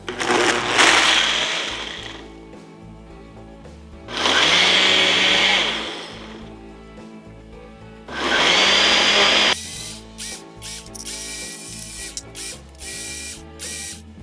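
A Ninja Nutri-Blender Pro runs its smoothie preset: three loud whirring bursts separated by quieter pauses, then a choppier stretch of short stop-start pulses. The motor is close, and no one talks.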